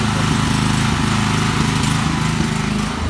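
A newly bought portable power generator runs steadily nearby during a power outage, its loud, continuous engine drone holding an even, buzzing pulse throughout with no pauses.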